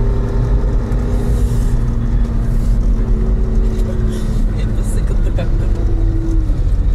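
Engine of a car with winter tyres in all-wheel drive, held on the throttle while driving a snowy winter road, a loud steady rumble and drone throughout, from inside the car.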